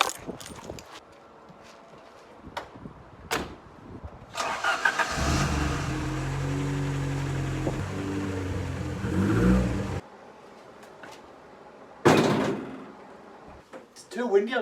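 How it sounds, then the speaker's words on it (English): A Ford Sierra Cosworth starts up with a few clicks and a door shutting, then idles and revs for several seconds close by before the engine cuts, followed by another door slam and handling noises. "I'm going to pull the car in"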